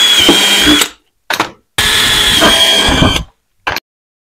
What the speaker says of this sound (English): I'm just taking a 1/4-inch drill bit and I'm going to drill 1/4-inch holes at all my marks